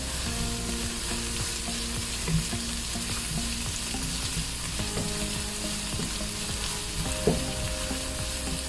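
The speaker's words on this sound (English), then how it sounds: "You don't want to do it too long because you do want to keep the green colors of the spring onion. So quickly stir it." Spring onion stir-fries quickly in a wok, a loud continuous sizzle with rhythmic scraping and tossing strokes and a couple of sharp clinks, with no voices.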